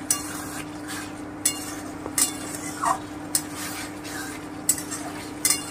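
Mutton korma with Kashmiri chilli powder fries in a pan over medium heat, a soft steady sizzle broken by regular close clinks of a metal spoon stirring and scraping against the vessel, with no one speaking.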